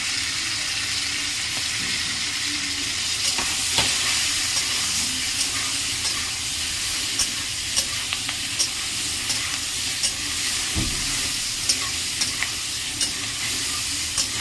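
Greens with salt and turmeric get stirred in a hot frying pan, a steady close sizzle with scraping stirs and small clatters throughout, loud and with no talk.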